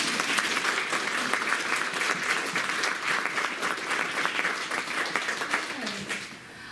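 Sustained applause from an audience, dense steady clapping throughout that tapers slightly near the end.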